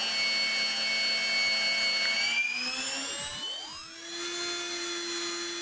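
An RC helicopter's electric motor whines steadily, then sweeps sharply upward in pitch as it spins up to idle-up speed, settling into a loud, sustained high whine close by.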